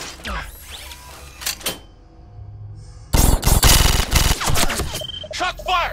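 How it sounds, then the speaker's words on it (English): Police gunfire erupts during a violent arrest struggle: a rapid, loud burst of several close shots crowds the second half, with shouting voices before and around it. "Shots fired! Shots fired!"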